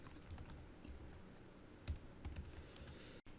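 Quiet typing on a computer keyboard, a loose run of light key clicks with a few sharper taps, heard close and alone in a hushed room, ending with a brief dropout.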